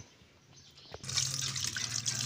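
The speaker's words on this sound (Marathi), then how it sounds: "पाणी टाकायचं, कढईत उकडत घालायचे." Water pours steadily into a kadhai after a quiet start, a continuous splashing rush that stays at an even level to the end.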